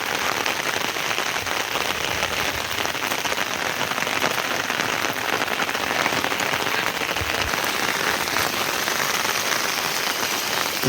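Unseasonal drizzle in the Konkan countryside patters steadily and evenly on surfaces near a cattle shed, a continuous hiss of drops with no voices, holding at the same level throughout.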